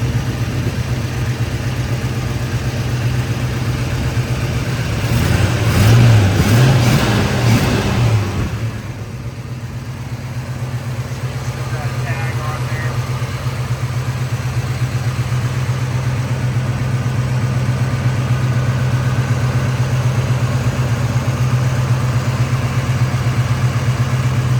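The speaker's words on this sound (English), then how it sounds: "This is a really good running engine." A Mercury Cougar convertible's S-code 390 V8 with automatic transmission runs steadily throughout, a deep continuous engine hum with a brief louder rev swell early on before settling back to an even idle.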